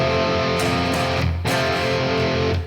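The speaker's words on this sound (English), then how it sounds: "this little like sus4 to major kind of resolution" A distorted electric guitar in drop D tuning plays a sus4 chord resolving to major, sustained and loud, with a brief dip in the middle before the chord rings on.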